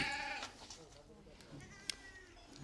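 A Barbari goat, a four-toothed doe with a sheep-like udder, gives a brief nasal bleat at the start, with people talking nearby.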